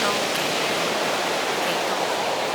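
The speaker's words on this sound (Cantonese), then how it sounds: "你睇下啲浪衝上嚟" Waves washing up onto a black sand beach on Iceland's south coast make a dense, continuous hiss and roar of surf. The sound is loud and unbroken throughout, with no talking heard over it.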